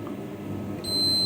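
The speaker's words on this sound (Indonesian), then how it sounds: "Di sini kami menggunakan bunyi bip" A thin electronic beep tone from a multimeter's continuity tester starts partway through and holds steady while probing for a short on a Dell computer switching power supply board, over faint background hum.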